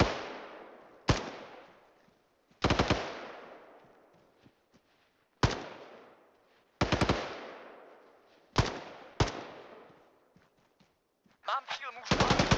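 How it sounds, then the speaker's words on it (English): Gunfire in the military video game Antistasi Ultimate comes as several loud, sharp bursts, each trailing off in an echoing tail, with quiet gaps between them and a quick cluster of shots at the end. "What are they firing at?"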